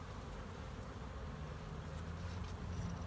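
Honeybees from a small colony in an opened hive, a steady, low, faint buzz with a soft swarming drone throughout and no talking.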